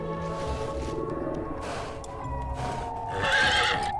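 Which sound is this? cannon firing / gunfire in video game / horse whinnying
horse whinnying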